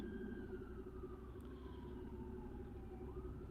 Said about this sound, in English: Sorry if you can hear the sirens.